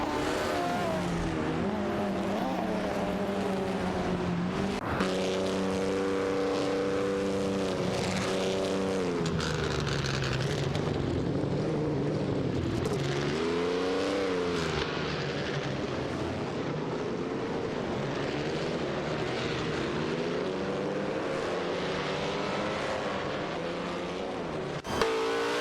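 A Cooper T53 and a Gordini T32 race in a video game, engines droning steadily and loudly throughout with rising and falling pitch as they accelerate and shift, with no talking.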